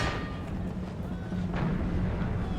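Musket volleys and artillery fire in the Imperial Splendour strategy game with Russian troops: a continuous dense crackle of distant gunfire with low rumbling booms throughout, steady and busy.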